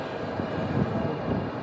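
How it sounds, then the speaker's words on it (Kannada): Nilgiri Mountain Railway toy train on the Ooty line pulling away, a steady low rumble and broad mechanical roar holding at moderate level throughout without talk. "ಟ್ರೈನ್ ಇವಾಗ ಹೊರಟಿದೆ"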